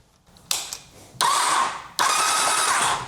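A flooded Kawasaki H2R drag motorcycle engine with a turbo is cranked in bursts: a short starter whir, then two longer loud cranking runs that spin without catching, separated by brief pauses.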